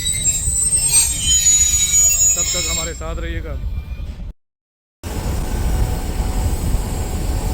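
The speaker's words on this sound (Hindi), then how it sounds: "ट्रेन प्लेटफार्म नंबर 4 पर आ चुकी है" A passenger train pulls in at platform 4 of a railway station with a loud, sustained rumble and high wheel squeal. Someone talks over it, and the sound cuts out briefly before the rolling noise resumes.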